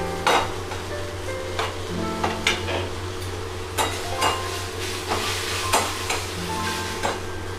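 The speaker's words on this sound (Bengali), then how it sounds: "মশলাটা ভালো করে ভেজে নিয়েছি" Spice paste with ginger paste and chopped onion fries in a pan for hotchpotch, a low steady sizzle broken by regular sharp clinks and scrapes of a metal spoon against the pan.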